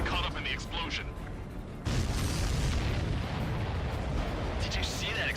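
A heavy explosion in the Ace Combat 7 combat flight video game erupts as a sudden deep boom and sustained roaring blast over game audio, with radio chatter and jet noise before it.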